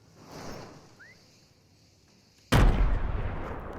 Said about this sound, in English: the sounds of the grenade and the gunshots